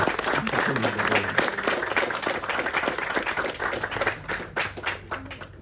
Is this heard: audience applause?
yes